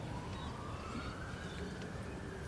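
Siren of an ambulance passing near the Royal Adelaide Hospital, a faint rising wail buried in steady broadband background noise, somewhat distant.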